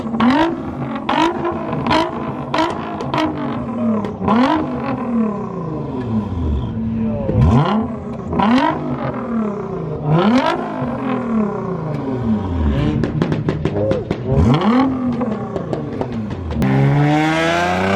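Loud car exhausts revving hard at a London street car meet with drifting, repeated rising and falling engine roars and pops one after another, close by, with people's voices mixed underneath.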